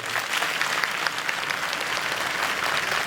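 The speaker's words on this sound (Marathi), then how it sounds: "दोन्ही हात वर करून जोरदार टाळ्या 10 सेकंद वाजू द्या" An audience at a comedy game show claps loudly with both hands raised, a dense, steady applause that continues without pause, with no voices.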